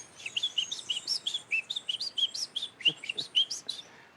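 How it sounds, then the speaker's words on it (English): A Munchique wood wren sings in the Colombian highlands, a fast, lively run of high whistled and chirped notes, clear and fairly close over faint background noise. "There is one here where we are that is called the Munchique wood wren that lives in the highlands."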